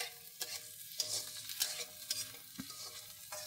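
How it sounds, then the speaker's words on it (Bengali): Eggs frying with salt in a home kitchen pan, stirred with repeated scraping strokes over a soft, continuous sizzle, quiet and close with no voices. "বেশ ভাজা ভাজা হয়ে এসছে। আর একটু ভেজে নিবা।"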